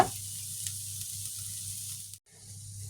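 Carrots sizzling in a frying pan for a lamb shank pie, giving a steady, moderately quiet hiss that cuts out briefly near the end before resuming.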